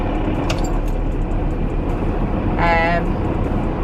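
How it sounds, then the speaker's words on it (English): A faulty car engine running while driving, a steady low rumble and road drone filling the whole stretch, with a brief higher whine midway; no talking. "You can probably hear that. That is the engine."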